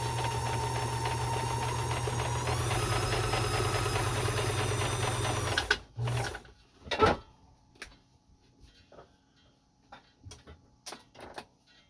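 A Kenmore 158.1400 sewing machine stitches a zigzag with a steady, close whirring motor and rapid needle ticking for about six seconds, then stops, leaving scattered clicks and small handling knocks.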